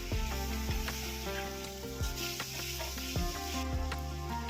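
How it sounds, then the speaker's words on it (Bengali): Vegetables and chicken fry together in a pan for a chicken stew, a steady close sizzle with repeated scraping stirs and clinks throughout. "এবার এই সব কিছুকে একসঙ্গে পাঁচ মিনিট মতো ভেজে নেব"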